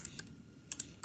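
Several quick, quiet keystrokes tapped out on a computer keyboard while entering a command, close and sparse over a soft background hush.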